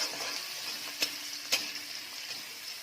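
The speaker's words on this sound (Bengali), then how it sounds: "এদিকে এটা একটু ভাজা ভাজা হতে থাক" Chopped onion, ginger and garlic fry gently in a pan for palak paneer, giving a soft, steady sizzle with a couple of sharp clicks from stirring or the utensil.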